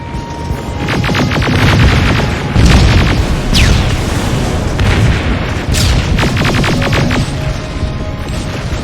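Rocket blasts in the game Terminator: Resistance fill the scene with loud, continuous booming explosions, deep rumbling and crashing debris, several heavy impacts rolling over one another with no let-up.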